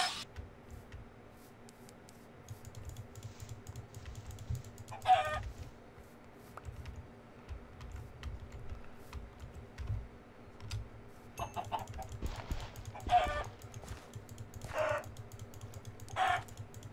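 Chickens clucking in the game Minecraft, a few short bursts scattered over a quiet low hum, with keyboard-like tapping in the background.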